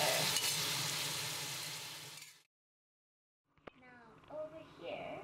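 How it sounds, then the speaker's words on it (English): Goat meat browning in a pot for goat soup, a steady loud sizzle for about two seconds, then a pause of silence, then quieter stirring with a sharp clink and some faint movement. "what you want to make sure is that you seal all the edges of the meat with that nice brown"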